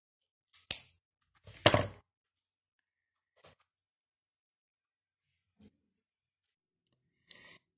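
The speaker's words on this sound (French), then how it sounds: "On coupe le fil en faisant attention de ne pas couper nos mailles." Scissors snipping crochet thread, two close crisp cuts followed by a few faint clicks and a last short snip in an otherwise quiet room.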